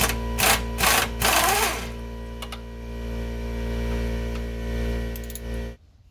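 A power tool, run at its lowest setting, removes a castle nut from the lower control arm of a C3 Corvette in a couple of loud bursts of buzzing, then settles into a steady mechanical hum before stopping abruptly.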